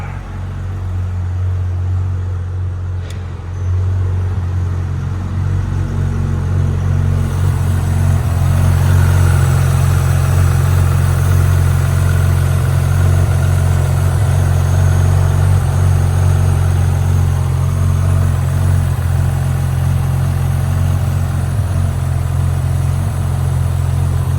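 A Porsche 997.1 GT3 engine idles steadily and close by, giving a deep, even rumble that grows slightly fuller after the first few seconds and holds for a long stretch.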